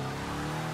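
A supercharged Ford Country Squire wagon in Forza Motorsport 6 drones with a steady engine hum and faint tyre noise, a brief, moderately quiet burst.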